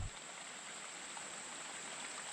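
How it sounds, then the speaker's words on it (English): Small creek waterfall, barely running in dry weather, gives a steady, soft broadband wash of trickling water, constant and faint with no voices. "And it's been pretty dry here, so that waterfall is just barely running."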